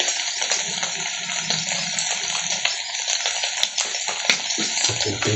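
Water poured into a cooking pan while sautéing a vegetable dish, a steady broadband sizzle and splash running continuously at close range with no talking.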